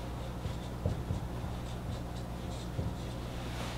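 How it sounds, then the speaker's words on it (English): A formula written by hand, likely chalk or marker on a board, with a few soft scratchy strokes over a steady low hum, no talking. "so I will just write the formula"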